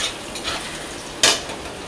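Cut potatoes tumble into a pot for a broken-rice dish, making one sharp splashing thud near the end of a short stretch of low kitchen noise.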